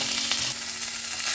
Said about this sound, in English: I grilled the steak on the hot pan